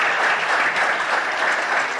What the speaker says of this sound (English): just a round of applause for the panelists for their contribution